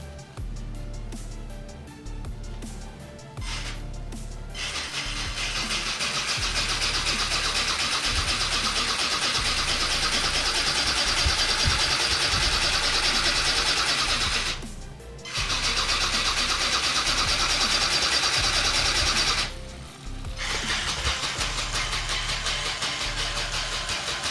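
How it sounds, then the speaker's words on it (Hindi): A small RC ornithopter's high-torque gearbox runs through a flapping test, a steady mid-pitched motor whir with two brief cutoffs, loud and close with no talking. "तो अभी आपने देखा इसका फ्लैपिंग टेस्ट"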